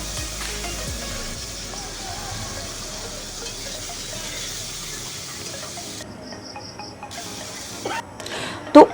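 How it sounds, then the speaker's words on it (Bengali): Dry red chillies and black cumin seeds crackling in hot oil as tempering for a spicy lotte fish curry, a low steady sizzle with a louder clatter near the end. "তো শুকনো লঙ্কা আর একটু কালো জিরে ফোড়ন"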